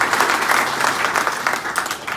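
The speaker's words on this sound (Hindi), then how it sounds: "मानवेंद्र जी के लिए ताली बजाओ" A crowd gives a steady, lively burst of clapping at a comedy show, dense and fairly loud throughout with no pause.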